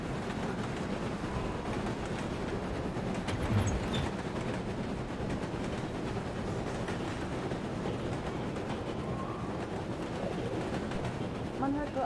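Steady rumble of a train rolling along rails in 11-11: Memories Retold, a wartime train carrying German soldiers, continuous and fairly loud throughout, with voices talking over it.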